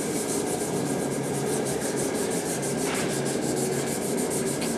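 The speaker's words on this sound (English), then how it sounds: "are you just creating little divots in there, sanding it like that with your finger?" Steady, continuous rubbing and scraping as a damaged car grille is sanded by hand with a fingertip, a close, even abrasive hiss with no talking.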